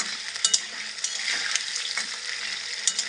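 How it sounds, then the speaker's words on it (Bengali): Potatoes and onion fry in a pan with salt, a soft steady sizzle broken by light scraping and stirring clicks from a spatula. "এবার আলুটা ভালোভাবে ভুজে নেবো"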